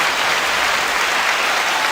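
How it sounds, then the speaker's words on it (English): A crowd gives an interview guest a round of applause: steady, dense clapping with no voices, filling the space evenly at a constant loud level for the whole stretch. "y'all give this man a round of applause"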